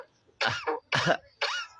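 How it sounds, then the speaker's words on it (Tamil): Three hoarse coughs follow in quick succession, close and fairly loud, each a short rasping burst with a brief gap between them. "இருமலா? ஐயோ இருமல் வந்துட்டு"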